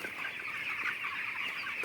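Chickens on a poultry farm clucking steadily at moderate volume, a continuous mix of overlapping clucks and calls.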